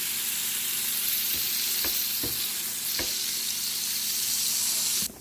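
Grease sizzles loudly in a pan as one continuous, even hiss, heard close, with a few soft knocks of stirring and the sizzle cutting off abruptly at the end.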